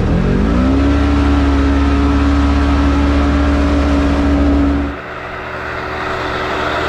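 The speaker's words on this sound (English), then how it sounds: "What side by side is quicker in a drag race?" Two side-by-side UTVs, a Can-Am Commander and a Polaris General, accelerating hard in a drag race: a loud, close engine drone with pitch climbing as they launch, holding high, then dropping off abruptly near the end.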